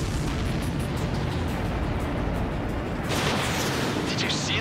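A distant explosion rumbles in the Ace Combat 7 jet combat game as a supply ship goes down, a dense roaring blast within continuous engine and battle noise, with a brighter burst near the end.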